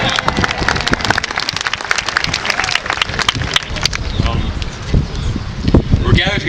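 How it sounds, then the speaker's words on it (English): A graduation audience applauds at an outdoor ceremony, with dense, steady crackling claps filling the whole stretch at a strong, even level, a voice carrying over the crowd. "can we just give a round of applause for the weather?"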